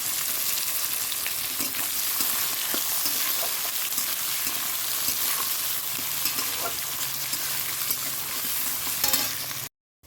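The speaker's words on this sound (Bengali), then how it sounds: "পেঁয়াজটা দিয়ে দিলাম।" Chopped onion sizzles loudly in hot oil with cumin seeds, dried red chilli and bay leaf for a chicken curry, a constant close frying hiss with the scrape of stirring and no voices.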